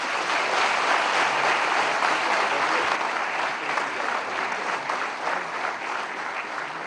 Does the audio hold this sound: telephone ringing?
no